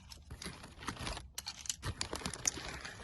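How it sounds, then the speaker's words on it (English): A bag is opened close up, giving a quick run of soft crinkles and crackles with brief pauses between bursts. "I'm opening my bag here and letting it crinkle"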